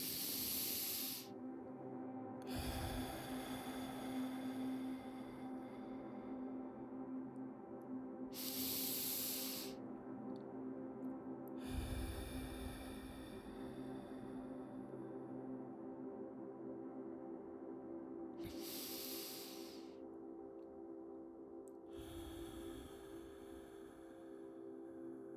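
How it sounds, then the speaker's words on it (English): Several slow deep breaths in a guided breathing exercise, long airy inhales and exhales recurring every few seconds over a low steady hum, close and soft. "I just want you to take a couple of deep breaths with me"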